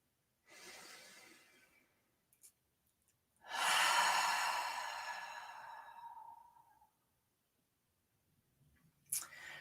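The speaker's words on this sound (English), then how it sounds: "Take a deep breath, close your eyes." A slow, deep meditative breath during a guided meditation: a soft inhale, then a long, louder exhale fading out, with a brief breath at the end, close and quiet.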